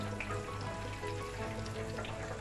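Battered boiled cauliflower florets frying in hot oil in a pan, three or four pieces at a time, giving a steady dense close sizzle and crackle throughout with no talk over it.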